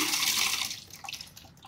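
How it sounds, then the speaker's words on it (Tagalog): Water from a tap splashes over a UMIDIGI BISON rugged smartphone after a dust test, a bright hissing spray that is loudest at first and then thins into scattered drips and trickles. "Di paliguan na lang natin, no? Sa gripo."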